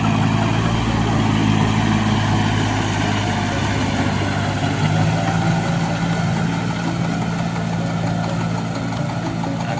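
A Kubota L4028 tractor engine working a field, a loud, steady low diesel drone running continuously at close range with no talk.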